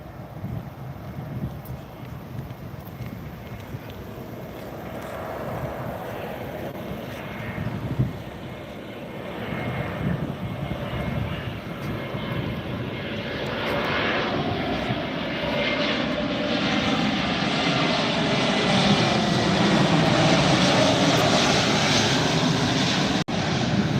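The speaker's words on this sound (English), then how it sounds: "Bright yellow Spirit Airlines coming in from New Orleans" A bright yellow Spirit Airlines airliner arriving from New Orleans roars overhead, its engine noise swelling steadily louder as it approaches, with wind buffeting the microphone and no talking.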